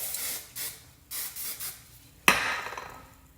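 Hairspray is sprayed onto freshly curled hair in several short hissing bursts, close and fairly soft, followed by a sharper knock and a trailing hiss.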